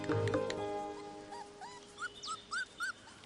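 Four young dingo puppies whimper and yip in a run of short, rising squeaky calls, close and fairly clear, following a brief burst of louder noise at the start.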